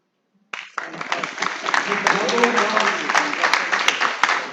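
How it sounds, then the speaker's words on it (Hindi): A festival audience applauds at the inaugural session of the Gorakhpur Literary Festival, with dense, sustained clapping that starts abruptly and continues steadily, filling the hall. "ये ताली जो बजती है जिससे मुझे कभी कभी डर लगता है"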